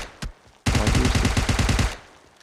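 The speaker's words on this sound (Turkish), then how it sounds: "50 milyon mermi atıyorum ölmüyor ya" A loud sustained burst of automatic gunfire in PUBG Mobile Lite, fast evenly spaced shots lasting over a second after a single earlier crack, close and with no talk.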